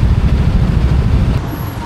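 Dense roadway traffic on a Bangkok street, a loud continuous rumble of engines and tyres with motorbikes passing close by, steady throughout with no talk.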